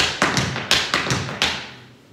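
Tap dance footwork rings out as a short series of about six sharp, close metal-tipped taps in an uneven rhythm, loud and crisp, each decaying quickly with no voice over them.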